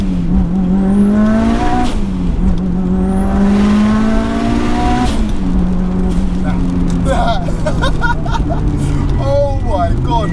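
A 550bhp Mitsubishi Evo 6 with a 2.3 stroker engine pulls hard through first gear, its loud engine note rising steeply twice with a high whine before changing, while people talk excitedly over it.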